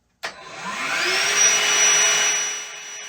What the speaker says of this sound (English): Next up, we have this little DeWalt handheld vacuum.